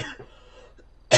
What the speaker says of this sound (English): I coughed a little bit